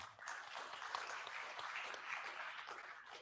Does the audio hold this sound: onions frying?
no